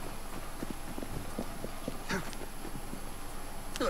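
Horses pulling a carriage in the video game Assassin's Creed Syndicate, with a steady trotting clip-clop of hooves over a constant rolling rumble, moderately loud.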